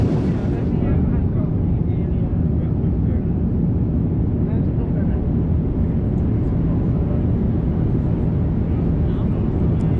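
Steady, loud cabin roar aboard an Air Europa Boeing 787-9 Dreamliner cruising between Amsterdam and Madrid, a dense continuous low rumble and hiss with no breaks.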